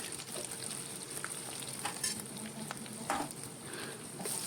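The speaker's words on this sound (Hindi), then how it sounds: "अब हम ना इनको अच्छे से भूनेंगे इस तरह से, मीडियम फ्लेम पर इसे इस तरह से भूनना है।" Ginger and spices sauté in hot oil over a medium flame for kadhi, a steady dense sizzle with occasional brighter crackles and soft stirring scrapes throughout, close and moderately loud, no talking.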